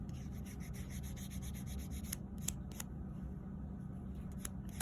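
A nail buffer rubs back and forth across fingernails in a steady, close, continuous scratchy rasp, with a few brighter strokes near the end and no talking.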